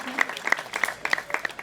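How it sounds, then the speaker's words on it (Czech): An audience at a brass band's 150th anniversary concert claps in a quick, even rhythm, the sound fairly faint and distant, with a few sharp individual claps standing out. "Ano, děkujeme za potlesk."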